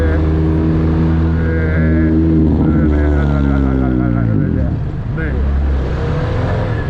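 A loud sporty exhaust from a 1990s Peugeot 205 GTI, close and revving with rising and falling pitch sweeps, droning continuously throughout.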